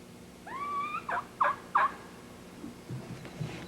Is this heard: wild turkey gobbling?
yes